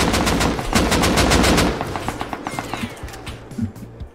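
Automatic AK rifle fire in the survival game Rust, delivered as a dense, loud barrage of rapid shots that gives way to sparser, separate cracks and bursts near the end.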